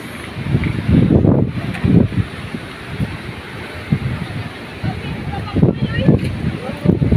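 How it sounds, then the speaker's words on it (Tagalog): Strong waves and gusty wind at the shore, a broad roaring wash with loud low-end wind buffeting on the microphone and surges of surf throughout. "Grabing alon ngayon."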